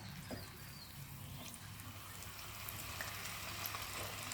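Plantain slices for tostones frying in hot oil in a skillet, a soft continuous sizzle with faint crackles, fairly quiet and steady throughout.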